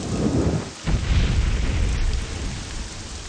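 Steady rain hisses throughout in The Elder Scrolls III: Morrowind at night, with a low rumble swelling underneath, no voices, a dense wash of rainfall sound.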